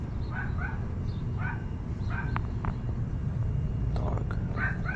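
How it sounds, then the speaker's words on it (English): A dog barks and yips in a few short bursts spread through the clip, moderately distant over a steady background hum. "Dog."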